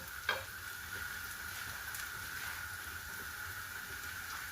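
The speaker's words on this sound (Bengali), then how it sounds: "এর মধ্যে এখন কুচি করা টমেটো দিয়ে দেব" Chopped tomatoes go into a hot frying pan, a sharp splash of sizzle at the start settling into a soft, steady hiss with faint stirring scrapes, close up and fairly quiet, no speech.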